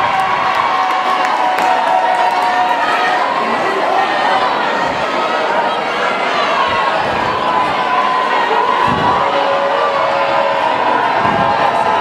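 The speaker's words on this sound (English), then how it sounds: "Stevens crowd starting to make noise." High school basketball crowd at a J.P. Stevens versus Edison game in the fourth quarter, a steady roar of cheering, shouting and chatter filling the gym for the whole stretch, loud and continuous.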